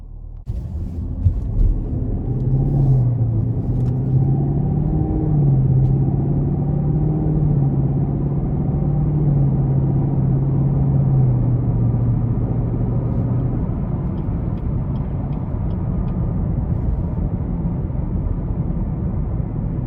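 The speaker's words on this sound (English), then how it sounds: "we're gonna go ahead and take this Camaro out on the road for a quick test drive" A 2021 Chevrolet Camaro 2SS coupe cruising on the road in sport mode on a cold day, its engine a steady low rumble with a droning tone that rises and eases gently, continuous and close, with no talking.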